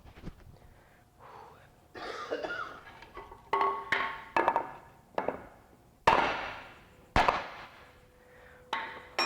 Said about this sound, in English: Sometimes a bigger hammer.